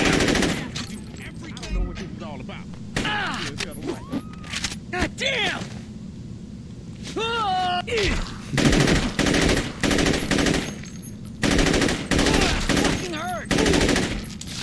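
AK rifle fire in Saints Row 2, with repeated bursts and rapid volleys of shots that are loud and close, interspersed with other game sounds and someone talking over them.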